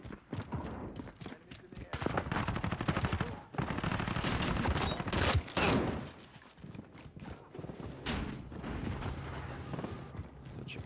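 Rapid bursts of automatic gunfire from a weapon in Call of Duty: Modern Warfare crackle in dense volleys with brief gaps, loud and close, while a player talks over parts of the shooting.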